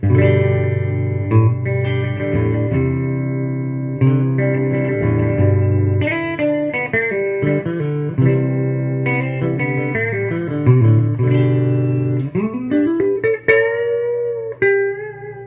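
A clean electric guitar plays through a homemade Fender Bassman-style tube amp with reverb: ringing chords and single-note lines with sustained tails, played alone, up close and fairly loud, ending on a bent note.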